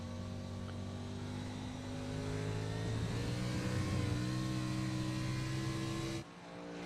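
A race car engine at Watkins Glen in a racing video game holds a sustained high rev with strong steady harmonics, wavering slightly as power is fed in, then cuts off abruptly near the end.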